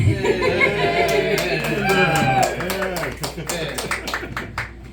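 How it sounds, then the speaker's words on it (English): Scattered audience clapping for the cast and crew at a film talkback screening, with a few sharp claps standing out toward the end while people talk over it throughout. "Let's just give them a round of applause."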